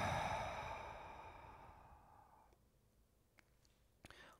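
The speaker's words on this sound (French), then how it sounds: "2 grandes expirations par la bouche cette fois-ci pour tout relâcher" A deep exhale through the mouth during a vinyasa yoga session, a soft, breathy release that fades gradually over two seconds, followed by near silence and a few faint clicks.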